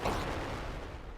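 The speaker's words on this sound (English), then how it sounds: "Especially with the new explosion sound effects." Laser blasts detonating in a video game, a loud, dense burst of explosion sound effects that booms at the start and rumbles on as a continuous wash for about a second.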